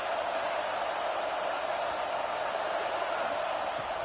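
Steady roar of a packed stadium crowd during a college football video game against NC State, continuous and fairly loud throughout with no talk.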